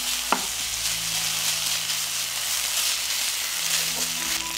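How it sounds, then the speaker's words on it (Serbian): Bacon fries in hot oil in a pan with a constant close sizzle and crackle, broken by a sharp clatter near the start and a light knock later, with no voices. "Pržit ću slaninu 3 minuta."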